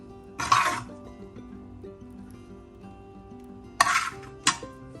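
Stir-fried green bitter gourd mezhukkupuratti is scooped from a pan into a serving dish: a few short metal scrapes and clinks, one early and two close together near the end, over quiet kitchen background.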